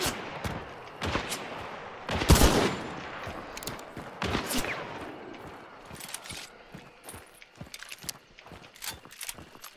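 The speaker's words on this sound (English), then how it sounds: "this guy's shooting at me from somewhere I don't see him" Enemy gunfire in a multiplayer video game, bursts of sharp shots with a couple of heavy loud blasts early, then scattered lighter cracks and rapid pops, fairly close, with no clear talk over it.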